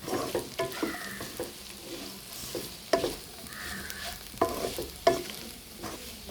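Chicken curry masala with chili powder sautés in a pan for a homestyle chicken curry. A moderate sizzle runs underneath while a spoon stirs and scrapes in irregular bursts, with several clear knocks against the pan.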